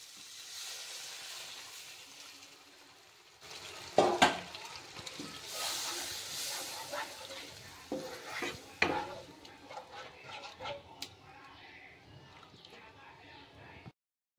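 Egg curry masala in a pan with a little added water simmers with a soft steady hiss, broken by a few louder clatters and stirring scrapes before fading out.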